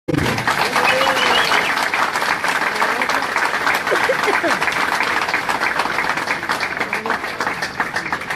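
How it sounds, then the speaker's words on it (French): A crowd at a tribute event gives a musician sustained, dense applause at close range, holding steady throughout with a few faint voices mixed in. "Applaudissez-le, s'il vous plaît."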